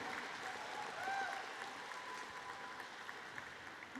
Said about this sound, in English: Let's give a round of applause for the people that are responsible for planning us being here.